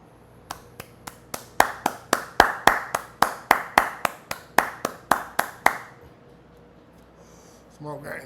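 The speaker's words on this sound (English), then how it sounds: "She deserved that smoking applause." One person claps slowly and deliberately, about twenty crisp, evenly spaced claps close to the mic, then stops, followed by a brief voice near the end.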